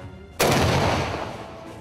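A large coastal artillery gun at Fort Miles in Lewes fires a single sudden, loud blast. A long rumbling roar follows and fades slowly, with no voices.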